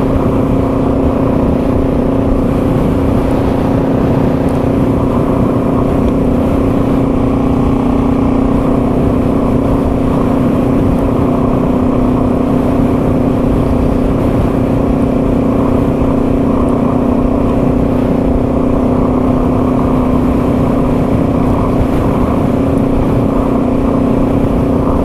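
Yamaha TW200 dual sport motorcycle riding across the frozen ice of Lake Superior, a steady, loud engine drone with constant wind rush, holding an even pitch the whole way without pauses.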